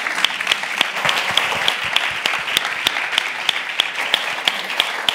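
Steady audience applause at a Barcelona conference on the future, dense clapping from a seated crowd with a few sharper nearby claps standing out, sustained evenly throughout without voices.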